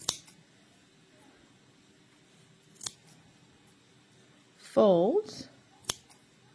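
Scissors snip through the folded yarn loops of a handmade pom pom, giving a few sharp, isolated cuts spread across the stretch, alongside a short burst of talk.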